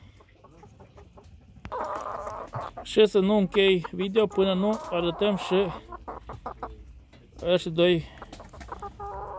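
Bantam chickens, two small cockerels and a pullet, cluck and call in a backyard coop, with repeated short clucks and squawks mixed under someone speaking close by.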